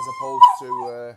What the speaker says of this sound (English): what's that noise? That's my dog.